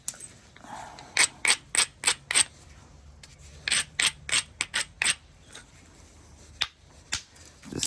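A copper bopper scrapes along a stone edge while chalky cortex is abraded off during flintknapping, a series of sharp, close scratchy strokes in quick clusters with brief pauses between.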